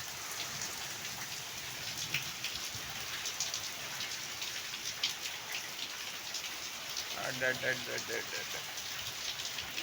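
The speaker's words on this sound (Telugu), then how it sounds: "పొగ తప్ప చల్లగా వర్షం" Steady, cold rain falls continuously outdoors, a dense even hiss of drops with a brief voice-like sound near the end.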